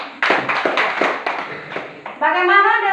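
A classroom group claps hands in an irregular burst of sharp claps lasting a couple of seconds, followed by a voice speaking.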